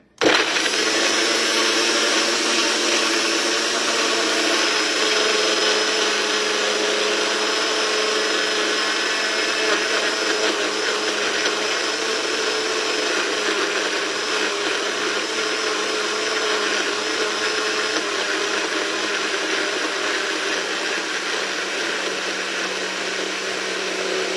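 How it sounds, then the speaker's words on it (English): A blender whirs steadily while mixing a high protein shake, a loud, continuous motor drone that runs unbroken for the full length without any voices. "We're gonna give it a blend."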